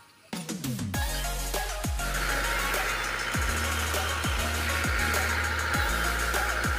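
A vehicle stuck with its tyre sunk into the ground at a concrete wall construction site, its engine revving and labouring in repeated surges over a steady low drone.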